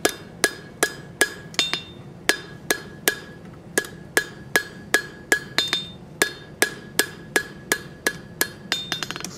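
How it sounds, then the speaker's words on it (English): A steel bottle opener being hammer forged on the horn of an anvil: a steady series of about twenty sharp, ringing hammer blows, evenly spaced and close, quickening into a flurry of lighter taps at the end, with no voices. "We'll clean that up on the horn of the anvil."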